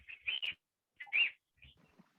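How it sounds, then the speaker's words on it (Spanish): Pet canaries or green parakeets kept indoors chirp in short, clear, whistled bursts, three separate clusters of sharp bright calls with silence between, close and distinct. "Canarios, sí, o los periquitos, esos como se llaman."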